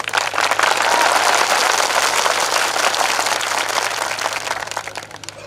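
A large crowd at a political rally in Naswadi claps loudly and steadily to welcome MLA Chaitar Vasava, a dense wash of applause that fades slightly toward the end.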